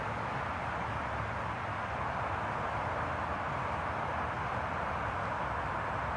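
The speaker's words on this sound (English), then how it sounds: "And listen, you can hear the highway and" Traffic on a distant highway makes a steady, faint broadband roar with no distinct passes and no talk.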